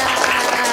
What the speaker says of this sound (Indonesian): Boleh minta tepuk tangan yang meriah untuk Bapak Agus.